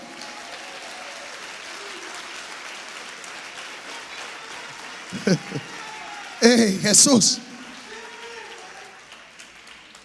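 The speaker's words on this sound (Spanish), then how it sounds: "Denle un fuerte aplauso al Señor" A short burst of applause from a church congregation during a pastor's sermon rises for about a second amid his ongoing preaching, with a smaller flurry just before it.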